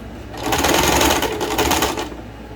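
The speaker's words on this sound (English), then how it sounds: "We're going to go back and retrace over that to lock in our stitches." A sewing machine stitches across a long-sleeve shirt cuff, backstitching to lock the seam, in a steady fast whirring run of about a second and a half that starts and stops cleanly, close and loud, with no talk.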